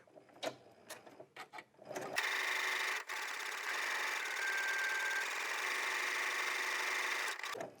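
A sewing machine stitching a buttonhole with a buttonhole foot runs steadily for several seconds with a brief hitch midway, preceded by a few short stop-start bursts of stitching.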